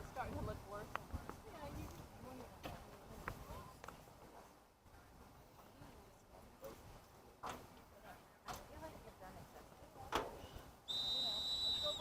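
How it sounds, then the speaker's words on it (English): At a high school boys' soccer game, a referee's whistle blows a single sharp, shrill tone to start play near the end, after stretches of quiet field noise and distant voices. "That's the whistle, and we're underway."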